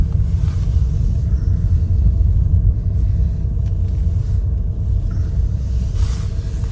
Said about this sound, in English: we're now pulling into the car park